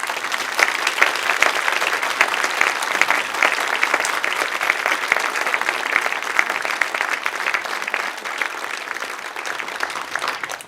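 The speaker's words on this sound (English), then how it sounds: "Can we have a round of applause?" A sustained round of applause from an audience at a heritage event, many hands clapping steadily and fairly close for the full stretch, thinning slightly toward the end.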